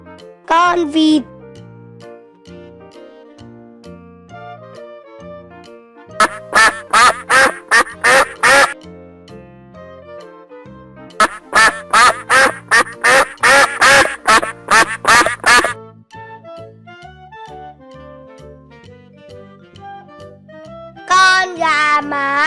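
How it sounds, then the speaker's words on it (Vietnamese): Two loud bursts of repeated duck quacks, each a rapid series of close calls, sounding over a bouncy children's music backing with short vocal phrases before and after. "Con vịt."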